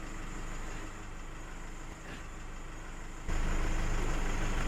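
A Nissan Frontier engine with about 275,000 km idles after a new timing kit was fitted, a steady, even running hum close by that steps up slightly louder near the end, with no knocking or other voices.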